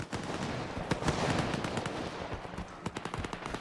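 Dense bursts of rapid gunfire in the video game S.T.A.L.K.E.R. 2: Heart of Chornobyl crackle continuously, with sharp individual shots over a rough, noisy background, fairly distant and muffled.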